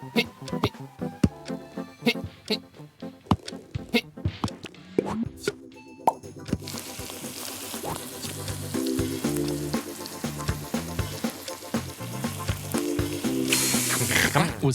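Cooking in the video game Henry Halfhead: frying sizzle with plops, clicks and mechanical ratcheting over game music, building into a steady loud sizzle.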